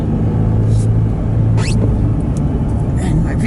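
A manual stick-shift vehicle driving along the foggy Blue Ridge Parkway in Virginia, a steady low engine rumble and road noise filling the clip, with faint brief squeaks above it.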